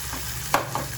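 Chopped tomatoes hitting hot oil in a tadka, giving a short burst of sizzling and frying with a sharp crackle midway, close and alone without speech.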